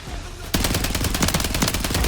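Rapid automatic gunfire in Call of Duty Warzone starts abruptly after a quiet half second and rattles on continuously at close range, with no talking.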